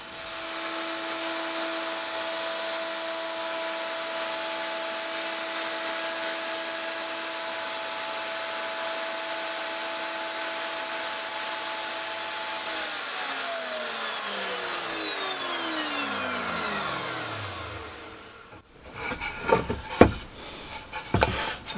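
A router spins steadily on a router table in a small shed workshop while grooves are cut in wood for a display case, then winds down to a stop, followed by a few light knocks and clatter.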